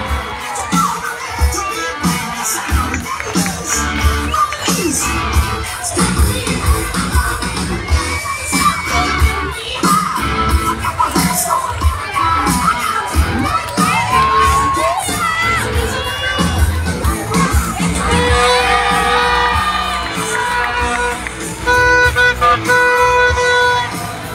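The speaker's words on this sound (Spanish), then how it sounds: "Un aplauso al zorro y vampiro canadiense." A lucha libre wrestling crowd in Mexico roars continuously at Vampiro Canadiense and El Zorro's match, a dense loud wash of cheering, shouting, whoops and clapping that swells and carries on without a break.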